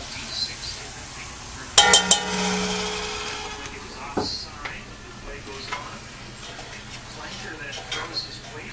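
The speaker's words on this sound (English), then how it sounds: "make sure you keep the onions moving. If you let them sit too long on a cast iron, they could burn or stick to the pan" Onions frying in a cast iron Dutch oven, a soft steady sizzle broken by metallic scrapes and clanks as they are stirred, close up and moderately quiet.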